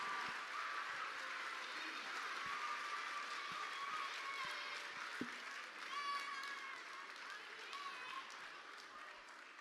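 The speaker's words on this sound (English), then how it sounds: "Give her a round of applause." An award winner at a graduation is applauded by the audience, steady crowd clapping with a few people talking over it, moderately distant and fairly quiet throughout.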